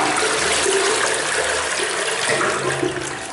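A toilet flushing and draining in a bathroom, a loud continuous rush of water that holds steady for about three seconds before easing slightly.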